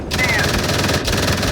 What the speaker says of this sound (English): The MG3, by the way, has received a new sound, and it's just sounding amazing, even in this view.